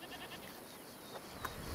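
A single goat bleat in A Plague Tale: Requiem, brief and fairly faint, rising over low game ambience near the end.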